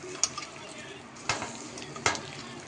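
A spoon scrapes through thick banana and soaked-ground rice batter in a bowl, three distinct stirring strokes with faint wet clinks between them, close and fairly quiet.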